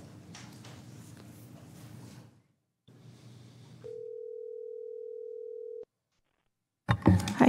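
Steady single-pitch telephone line tone holding for about two seconds during a call transfer at a Sacramento County Board of Supervisors meeting, set between stretches of low background noise and a brief silence.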